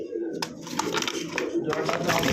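Iranian highflyer pigeons coo softly in the background while someone talks over them, with some rustling and fluttering nearby.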